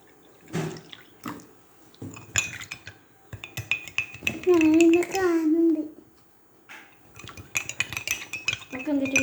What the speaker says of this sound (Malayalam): നമുക്ക് എന്നിട്ട് മിക്സ് ചെയ്യാം.